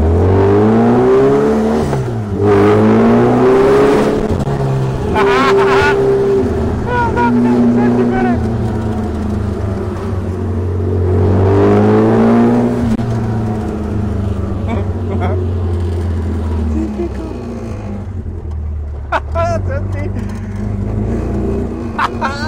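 The engine of a 1964 Mini Moke revs loudly and continuously at close range, rising and falling through repeated throttle blips. No voices are heard.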